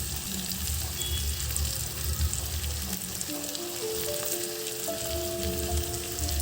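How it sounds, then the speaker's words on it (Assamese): Goat mutton fries with ground chili, cumin, coriander and garam masala in a home kitchen, a steady close sizzle with a low rumbling bubble, a few faint scrapes, and no voices. "মাংসখিনি ধুনীয়া কৰি ভাজা হৈ গৈছে।"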